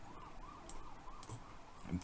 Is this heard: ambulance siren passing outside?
yes